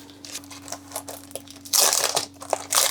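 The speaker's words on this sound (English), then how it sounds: "get these trimmed out with my little die cut machine" Paper cards for Christmas crafts crunch and crinkle as they are handled for a small die cut machine, irregular close rustles with louder crumpling bursts over a low steady electrical hum.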